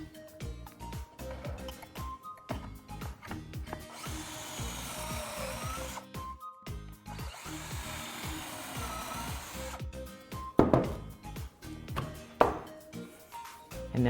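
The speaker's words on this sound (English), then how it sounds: "you're going to drill down in these 2 outside holes because we want to put 2 screws in" Power drill with a Kreg jig bit boring two screw holes into wood for a rolling lemonade stand, heard as short stop-start bursts of motor whine with two longer drilling runs and some clicks and knocks between them.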